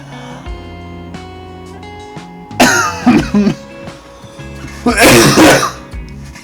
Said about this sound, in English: Sorry, I keep coughing.